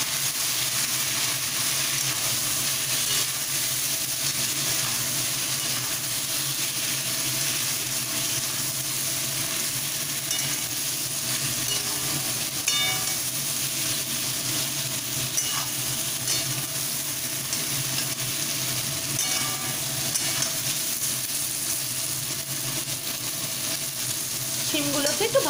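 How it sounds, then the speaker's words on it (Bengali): Flat beans frying in a pan seasoned with salt and a pinch of turmeric, giving a steady, continuous sizzle with faint stirring scrapes, close and even throughout with no talking. "শিমগুলোকে একটু ভালোভাবে ফ্রাই করে নিচ্ছি"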